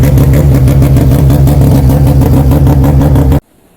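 A Mazda 13B naturally aspirated rotary engine in a Formula Mazda open-wheel race car runs loud and close with a buzzy, pulsing drone that cuts off abruptly near the end.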